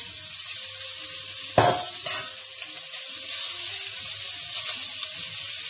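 Pork sizzles in a pot for pork with beer and orzo, a steady close hiss of frying broken early by a single metallic clunk, loud and continuous, with no voices.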